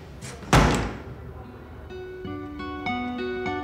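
A door slams shut in a Russian domestic drama, one sharp loud bang near the start, followed by a faint quieter stretch with soft tones and low background noise.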